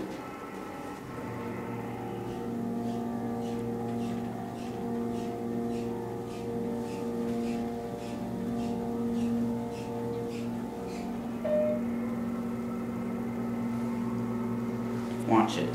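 A Baxter and Sons elevator in a church in Arlington, Texas, runs with a steady motor hum and whine that shifts as the car levels, with light ticking throughout and a sharper sound at the end.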